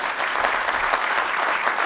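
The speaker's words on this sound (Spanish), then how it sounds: "un aplauso a todos los presentes" Seminar audience clapping together for everyone present, a steady dense wash of many hands held at an even level throughout with no talk over it.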